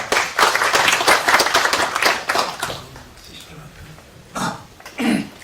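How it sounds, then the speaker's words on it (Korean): Warm applause from a seated audience at a political briefing on courts and Venezuela, dense and steady for about two and a half seconds, then fading into a quiet room broken by a couple of short coughs or throat clears. "따뜻한 박수 다시 한번 부탁드립니다."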